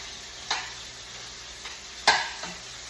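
Tomatoes cook in a pan with a soft, steady sizzle, broken by a few sharp stirring clicks and scrapes. There is no talking.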